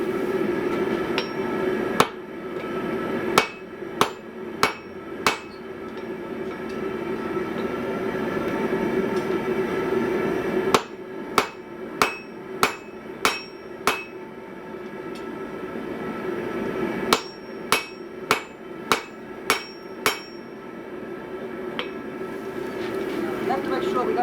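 A blacksmith's hammer forges the ends of a diagonal peen hammer: bursts of sharp, ringing blows in quick groups of four to six, separated by pauses, over a steady low background hum.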